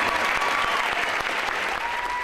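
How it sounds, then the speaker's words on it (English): A theater audience at the Babcock Theater claps steadily and densely throughout, a full, even round of applause with no pauses. "give them a round of applause."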